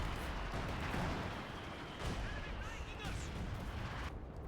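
Gunfire and artillery in a 4v4 Company of Heroes 2 match, dense overlapping shots and booms forming a loud, continuous battle din under a commentator's voice.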